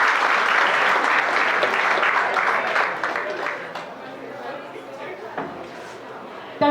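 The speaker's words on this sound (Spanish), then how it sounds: "Recibámoslo con un fuerte aplauso" Audience clapping at an education event in El Salvador after a departmental education director is introduced, a dense steady burst of applause that fades partway through and continues more sparsely with some voices underneath.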